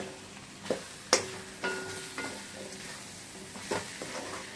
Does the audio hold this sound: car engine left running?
no